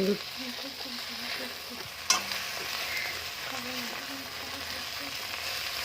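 Noodles, cauliflower and mixed vegetables are stirred in a hot pan, making a low continuous sizzle with scraping, one sharp clank of the utensil against the pan and a faint voice murmuring underneath.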